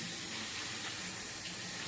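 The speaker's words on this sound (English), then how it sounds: "to prevent contamination, I must wash my hands before handling the raw meat" Water runs from a tap during handwashing, a steady close hiss and splash that holds at one level throughout with no voices.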